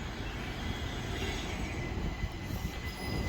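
A Class 377 electric train rumbles steadily close by with continuous rolling wheel noise and faint squeal, no voices.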